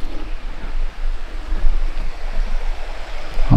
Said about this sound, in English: Creek that goes under the bridge here.